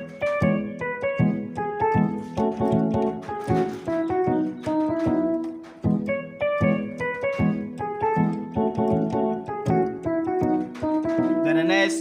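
Keyboard plays a Ghanaian gospel highlife chord progression in F, bright stacked chords hitting in a steady bouncing rhythm over a repeating left-hand bass pattern, close and continuous with no voices.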